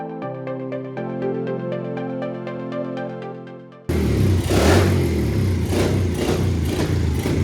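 A pit bike built from a moped runs on a test ride, its engine a rough, buzzing drone that starts partway through and stays loud to the end, with steady music playing before it.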